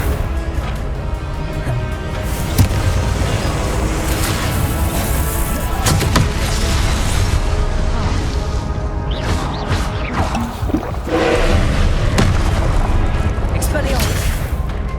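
Repeated fiery blasts of the Confringo spell in the Hogwarts Legacy video game, loud booms and crashes recurring through a dense, continuous battle din with game music and shouted voices layered over it.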